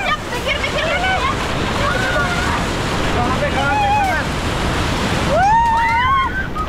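Ocean surf washes continuously with wind noise, while people talk and shout excitedly over the roar of the waves.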